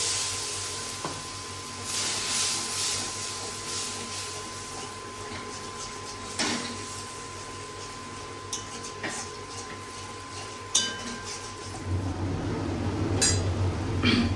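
Spice paste of cumin and coriander powder is stirred with a little water in a cooking pan for a vegetarian pointed gourd dish. It gives soft scraping and intermittent metallic clinks of a spoon against the pan over a steady background hum, with brief speech.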